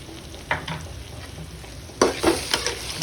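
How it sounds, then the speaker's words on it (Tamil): Ginger-garlic paste frying with onions for mutton semi-gravy makes a steady low sizzle with spatula stirring and a louder scraping burst near the end, with no one speaking. "ஸோ கைஸ் இஞ்சி பூண்டு பேஸ்ட் ஆட் பண்ணுறேன்"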